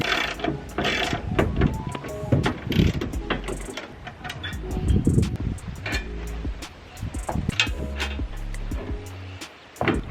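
Bolts being loosened and removed from a bed rail on a Toyota Tacoma pickup, with a steady clicking ratchet and metallic mechanical rattles up close, plus light wind noise in the background.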